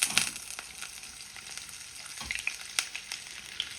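Butter sizzles in a hot pan for paneer butter masala, a steady bright crackling hiss with scattered pops and a couple of louder spits, heard alone without talk.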